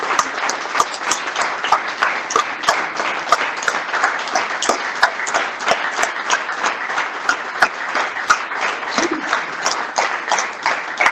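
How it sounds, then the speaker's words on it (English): Round of applause at a Rotary Club weekly meeting honouring an award recipient: steady, dense clapping from a room of people, with sharp individual claps standing out throughout and no talking. "Please join me in showing our thanks with a well-deserved round of applause"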